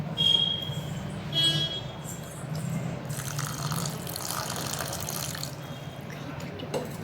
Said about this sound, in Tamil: இப்போ இதில் இன்னும் கொஞ்சம் அளவுக்கு தண்ணி சேர்த்துக்கலாம்